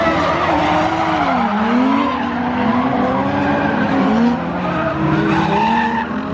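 Tires squeal steadily as a Toyota JZX90 drifts around a track, the wavering screech loud and continuous over engine roar for several seconds.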